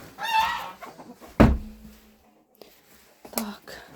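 Backyard chickens on a rainy, muddy homestead give a few scattered clucks and short squawks close by, with a sharp burst midway and quiet gaps in between, while someone talks.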